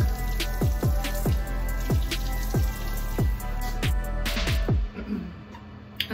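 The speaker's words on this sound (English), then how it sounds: "now I'm gonna wash this off my face" Water splashes and drips close by during a face rinse at a running tap, with repeated cupped splashes over a constant rushing stream.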